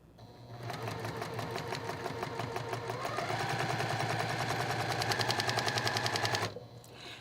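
A sewing machine stitches a quilt block at a short stitch length, its needle hammering in a fast, even rhythm that builds and then stops abruptly; close and steady, with no talk.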